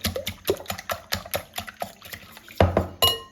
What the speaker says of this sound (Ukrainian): беремо наші яєчка і збиваємо вінчиком